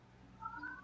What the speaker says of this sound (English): I still hear the cat.